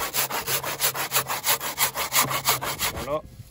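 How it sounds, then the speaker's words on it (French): Steady back-and-forth strokes of a hand saw biting through wood while building a wooden shed, about fifteen rhythmic rasps, close and loud, ending abruptly as the cut finishes. "vous collez la scie contre, vous appuyez avec vos doigts et vous mettez des coups comme ça."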